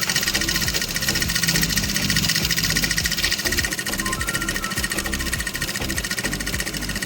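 A sewing machine runs steadily while stitching a door curtain, a loud continuous rapid mechanical chatter of the needle with a constant motor hum, close and alone throughout.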